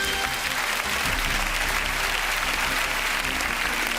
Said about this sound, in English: Thank you very much for applauding